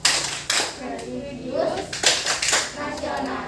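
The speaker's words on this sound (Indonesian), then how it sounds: "Tepuk PPK." Children in a classroom perform the rhythmic PPK clap together, sharp group claps in a patterned beat, close and fairly loud, mixed with children chanting and talking.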